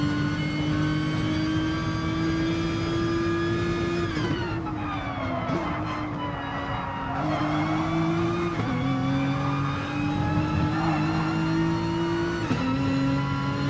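Audi TT race car engines in a racing video game at Sardegna, a continuous loud engine drone that shifts pitch with repeated upshifts and dips, with several cars roaring together throughout.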